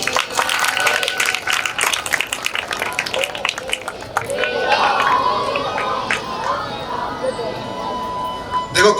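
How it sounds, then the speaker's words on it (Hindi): Audience applause at a Shri Ram Katha religious gathering: dense, steady clapping fills the first few seconds, then thins into crowd murmur and scattered voices. "जोरदार ताली दें"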